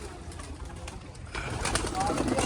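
Pigeons released indoors coo softly in a busy space, low throaty calls repeating over a steady background murmur and some nearby movement.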